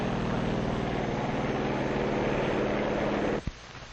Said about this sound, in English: Also taking off from the carrier are control planes that will guide the radio-controlled drone